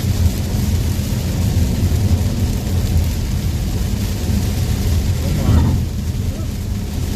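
Heavy rain from a thunderstorm in southwest Pennsylvania pours steadily and loudly, with a low rumble of thunder swelling briefly toward the end.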